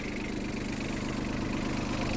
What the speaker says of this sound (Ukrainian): це я даю максимальні оверти, гляньте на вихлоп